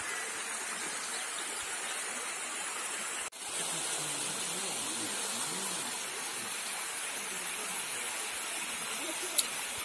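A shallow, low-water waterfall near Sochi gives a steady broadband rush of falling water, close and continuous, with a brief dip partway through before the flow noise resumes unchanged.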